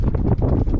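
North wind gusts across a bay, buffeting hard against a microphone in rapid rough bursts, loud and close, with no one speaking.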